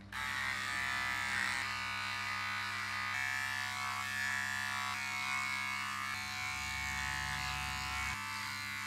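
Electric shaver trimming a beard, a close continuous buzzing hum with slight shifts in tone as the blades move across the hair, no voices.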